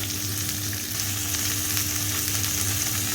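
Stuffed chicken fries skin side down in a pan with a steady, close sizzle and crackle, a continuous dense hiss with light pops throughout.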